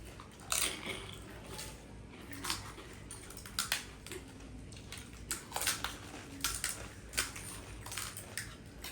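Pani puri being eaten, with repeated crisp bites and crunches of the shells, a close, irregular crunching spread across several seconds and no talk.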